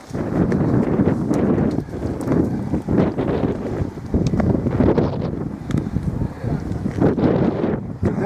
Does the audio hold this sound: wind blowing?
yes